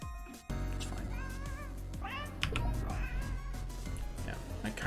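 Several cats meow in the Ikenfell video game, with rising and falling cries layered over a steady background game tone, fairly loud and close.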